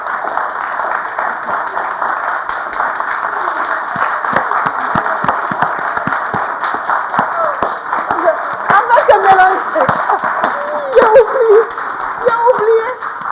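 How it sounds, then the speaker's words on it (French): Continuous applause from a theatre audience at a café-theatre performance, dense and sustained, with a performer's voice speaking over it later in the stretch. "Et pourquoi est-ce que vous applaudissez?"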